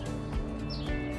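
Cape sparrows chirp close by while building a nest in a climbing rose in a South African garden in spring, with short chirps over a steady busy background.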